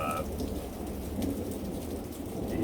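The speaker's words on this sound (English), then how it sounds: "It was already supposed to be done raining, but it's still raining." Steady rain falls outdoors on a wet day, a dense broadband patter holding at constant loudness throughout with no voices.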